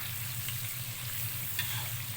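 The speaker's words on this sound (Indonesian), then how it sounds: "Ini sebentar saja kita goreng sekitar" Baby squid sizzle and crackle steadily in a frying pan of hot oil, a constant bright hiss with a low hum beneath and one sharp pop near the end.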